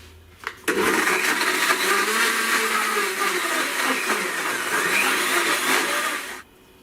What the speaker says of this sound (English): Blend on high for about 20 to 30 seconds.